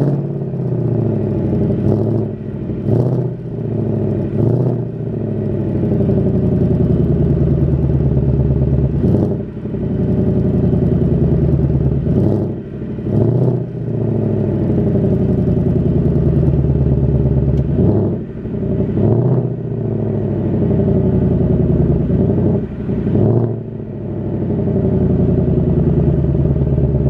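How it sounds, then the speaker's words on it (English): A 2019 Ford Mustang GT Premium's V8 with stock exhaust idles cold with a deep, loud rumble, broken by several sharp revs that rise and fall, spaced out over the stretch, close by. "I'm gonna give y'all a little exhaust roar."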